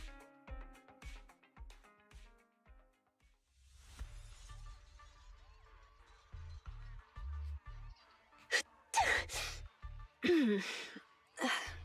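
A video game character in Zenless Zone Zero gives a few short, sharp sneezes near the end, after quieter game music and soft effects, with brief breathy vocal sounds between them.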